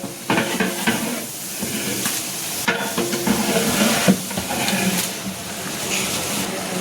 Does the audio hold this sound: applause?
no